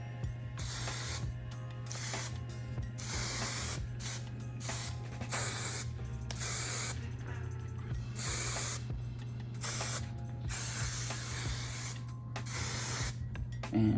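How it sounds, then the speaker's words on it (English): Bursts of big sexy hairspray from an aerosol can hiss in a steady series of short, close, loud blasts, each a second or so long with brief gaps, over a low constant hum. "Let me grab some big sexy hairspray."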